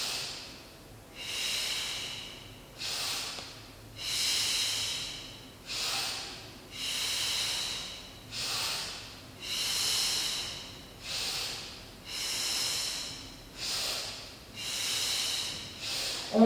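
Slow, steady breathing during a Pilates exercise, about nine long airy breaths in an even rhythm, close and fairly quiet with no talk.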